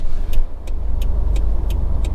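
A Subaru STI drives through snow in a Chicago parking lot, its engine a low, steady rumble close by, with faint regular ticking throughout and no one talking.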